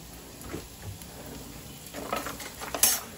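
Garlic sizzles in an already hot pan for Provençal mussels, a soft fry with stirring scrapes and a brief clink of cookware near the end, close and fairly quiet.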